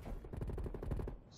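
A Bullfrog submachine gun fires one rapid, loud burst of closely spaced shots in Call of Duty: Black Ops Cold War.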